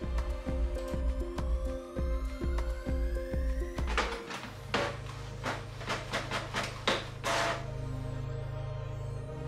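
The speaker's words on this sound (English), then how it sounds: "Here I print the test page." A Canon MAXIFY inkjet printer runs a test page with a steady mechanical whir and rapid rhythmic ticking from the print head, then a run of sharp clacks as the paper feeds and moves through, heard up close with no talking.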